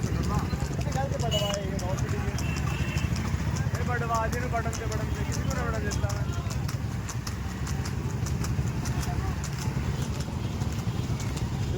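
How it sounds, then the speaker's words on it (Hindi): Three buffaloes walk together on a farm, hooves clopping in a steady, overlapping patter beneath continuous crowd voices and broad outdoor noise. "तीनों भैंसे मिलके चल रहे हैं।"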